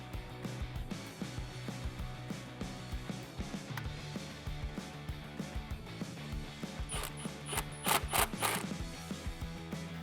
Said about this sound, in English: throw it on the throttle body and tighten the clamp down using an 8mm socket.